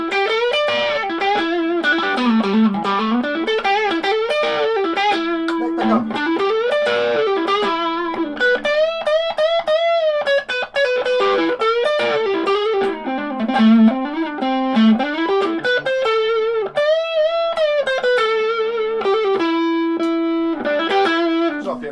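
A Chinese-made Telecaster-style electric guitar with both pickups on plays through a Tube Screamer overdrive pedal, sustained distorted notes and bends ringing loud and continuous with no talking.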